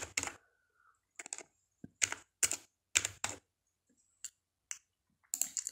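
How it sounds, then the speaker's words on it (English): Keys clatter on a computer keyboard as a number is entered, coming as short separate bursts of crisp clicks with brief pauses between, close and fairly quiet. "type here the number"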